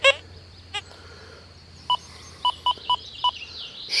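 Deus 2 metal detector with HF2 coil at reactivity 1 giving one-way target signals: a string of short, clear tonal beeps, mostly single with a tighter cluster toward the end, over quiet outdoor background hiss.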